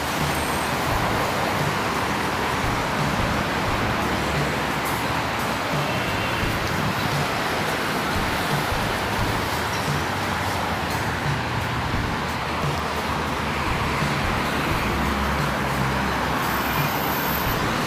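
Light car traffic passing beneath a pedestrian footbridge, a steady broadband road roar with passing vehicles and buses blending into a continuous wash, fairly loud and constant with no talk.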